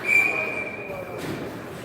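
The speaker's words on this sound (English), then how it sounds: "Ref blows the whistle to make sure it still works." A referee at a youth hockey game between the Kanata Blazers and the Cobras blows one shrill whistle blast that lasts about a second. It sounds over a steady rumble of arena noise.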